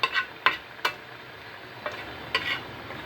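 Chillies and onion frying in a pan, stirred in a few short scraping strokes over a steady soft sizzle, close and fairly loud with no talk.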